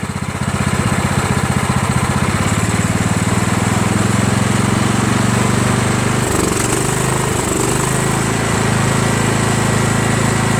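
A Craftsman push lawn mower engine runs at full throttle, a loud, close, steady buzzing drone that holds unbroken, with a faint shift partway through.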